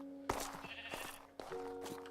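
A sheep in Minecraft gives two short, nasal bleats one after another, close and clear, as the player fills a pen with sheep and breeds them.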